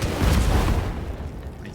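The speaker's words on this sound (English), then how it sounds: "Let's make an explosion." A spell explosion in the fantasy role-playing game Divinity: Original Sin bursts as one deep, heavy boom that rolls out and fades over a second or two, loud and with no voices over it.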